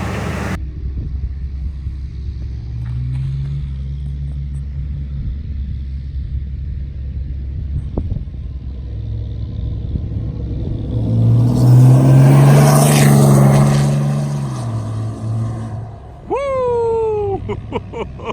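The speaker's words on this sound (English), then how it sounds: "I can't wait to hear this truck with its new exhaust filter on" A 6.7 Cummins diesel truck with a 5-inch straight pipe exhaust idles with a deep rumble, then revs up loudly into a roaring surge before settling, with a high squeal near the end.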